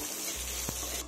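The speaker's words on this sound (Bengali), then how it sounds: "আমি তেলের মধ্যে মুগ ডালটা একটু ভেজে নেব" Mung dal frying in oil on low gas after fish heads were fried, giving a steady close sizzle with a brief stir or clink near the end.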